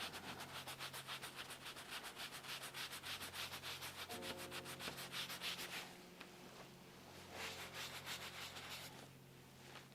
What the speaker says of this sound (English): We'll do some burnishing.